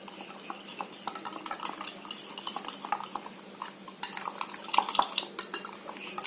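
Paneer tikka marinade with kasuri methi and coriander leaves being stirred in a bowl: a steady run of close spoon scrapes and light clinks against the dish, growing a little sharper toward the end, with no talking.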